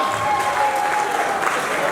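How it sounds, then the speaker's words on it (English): A concert crowd in Mbale City claps for itself, a dense, steady burst of applause from many hands filling the whole moment. "put your hands together for today's VIP, who happens to be none other than you. Clap for yourself"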